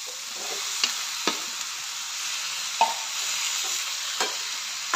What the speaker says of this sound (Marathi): मिक्स करून घ्यायचं आहे चांगलं.